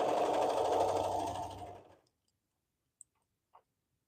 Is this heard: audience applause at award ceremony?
no